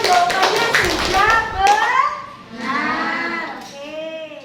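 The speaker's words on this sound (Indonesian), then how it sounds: "Silakan dikasih tepuk tangan semuanya" A sixth-grade primary school class claps hands in a burst of scattered clapping and tapping during the first half, with children's voices and an adult speaking over and after it.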